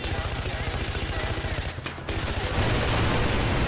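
Dense, continuous automatic gunfire from a gun in the video game Far Cry 4 rattles loud and steady in rapid bursts, with a short break midway before the shooting resumes.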